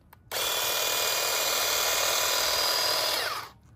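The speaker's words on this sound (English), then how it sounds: "Then take it over to the grass. And then just trim the grass." A cordless hedge trimmer runs as it trims grass, giving a steady, buzzing electric whine for about three seconds that starts abruptly and fades at the end.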